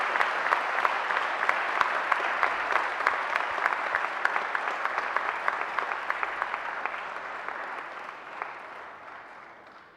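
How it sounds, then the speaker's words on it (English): Graduates at a graduation ceremony turn to applaud their families, producing steady, moderately distant clapping with sharp individual claps that gradually thin out and fade over about ten seconds. "turn around and face your families and give them a great round of applause"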